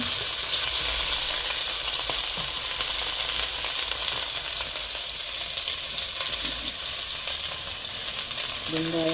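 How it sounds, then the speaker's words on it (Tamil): Onions and green chilies fry in coconut oil with a steady, loud, dense sizzle that holds the whole time, with faint stirring clinks in the background. "வெங்காயமும் பச்சை மிளகாயும் போட்டு வதங்கப்படுவோம்"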